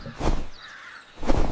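Two loud, hoarse crow caws, one near the start and one near the end, separated by a quiet gap, with no other voices.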